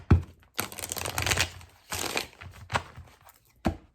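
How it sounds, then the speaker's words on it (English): Tarot cards being shuffled by hand, a few quick riffling bursts with short pauses between them, close and crisp. "I'm going to shuffle 3 times"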